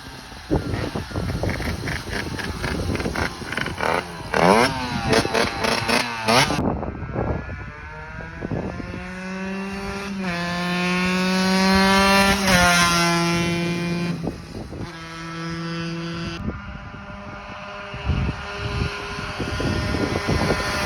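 A Beta motorcycle engine runs close by with a strong harmonic drone, its revs climbing and falling in long sweeps before settling back to a rough idle, with no talking.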